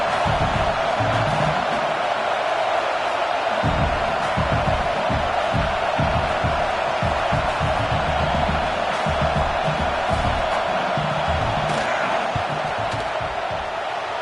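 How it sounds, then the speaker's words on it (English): A simulated football stadium crowd in a video game roars constantly as a loud, unbroken wall of cheering and noise, with faint rhythmic thumps underneath. "This crowd trying to do its part to get inside the kicker's head."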